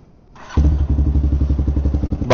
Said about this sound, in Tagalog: So, ito yung motor natin.